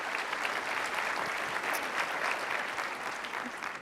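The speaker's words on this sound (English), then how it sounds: "Please join me in giving a big round of applause to Deloitte, who is our diamond sponsor this year." An audience at an HR conference applauds a sponsor with a dense, steady wash of clapping that holds evenly and thins slightly toward the end, with no speech over it.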